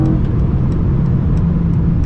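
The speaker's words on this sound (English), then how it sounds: "accelerate one more time. Hear that nice V8." A Mercedes-AMG E63 S V8 engine roars steadily and loudly on the Autobahn, a deep continuous rumble as it accelerates.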